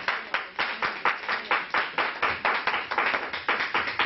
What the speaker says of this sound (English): Clap for Jesus once and one more time.